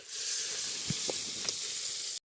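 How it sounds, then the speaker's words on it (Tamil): Tomatoes with salt sautéing in a pan for quail gravy, a continuous bright sizzle with a couple of brief scraping stirs, cutting off abruptly at the end. "நல்லா வதக்குங்கப்பா"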